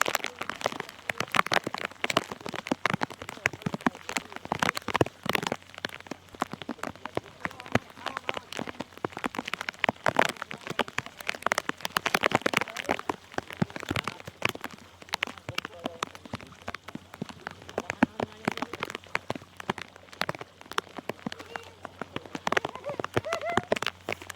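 Rain falls steadily on an open area, a dense, continuous crackling patter of drops striking surfaces, close and even throughout with occasional sharper taps.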